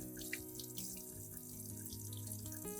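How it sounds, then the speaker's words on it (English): Tap water runs in a steady, soft stream to rinse an orchid plant with clean water after its damaged roots are trimmed, faint and continuous under quiet background music. "I will rinse the entire orchid plant thoroughly again with clean water."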